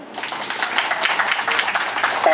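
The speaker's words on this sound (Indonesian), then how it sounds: "Tepuk tangan dong untuk Pak Hutafia" A residents' meeting audience at an RPP2 housing complex on a Saturday night claps for Pak Hutafia. The applause is dense, rippling and steady, starting quickly and holding, with a voice briefly emerging near the end.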